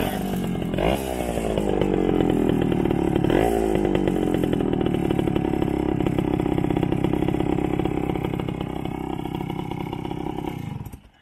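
A 1970 Kawasaki GA3 two-stroke off-road trail bike idles loudly and close by, with a raspy, buzzing exhaust and a couple of brief blips early on. It runs steadily before cutting off abruptly at the end.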